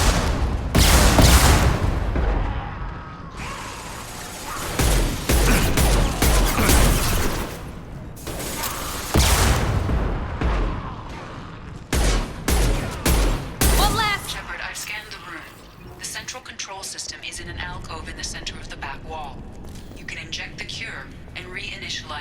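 Heavy weapon fire in Mass Effect 2, loud booming blasts and bursts of gunfire, with repeated explosions through the first half followed by rattling, busier combat noise, mixed with game speech.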